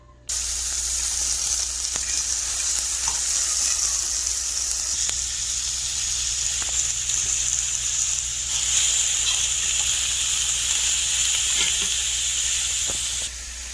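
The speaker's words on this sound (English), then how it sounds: "add the red peppers to the pan and saute those" Steady sizzling of red peppers sautéing in a hot pan, a continuous bright hiss with occasional small pops and clicks, close by, no talking.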